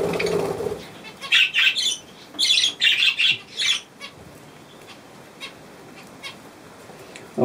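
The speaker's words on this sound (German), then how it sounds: "Eigentlich wollte ich ja meine Vögel versorgen" Pet birds begging for millet at breakfast give a series of loud, close bursts of busy chirping and squawking with wing flutters, followed by quieter scattered calls.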